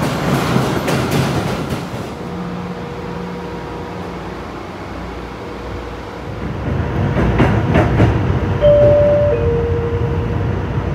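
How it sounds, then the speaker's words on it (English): A Boston subway train stands and pulls out at Revere Beach station, with a steady rumbling hum, clicks and rising motor whine, loud and close, with brief tonal chimes near the end and no talk. "Please watch your step while exiting the train."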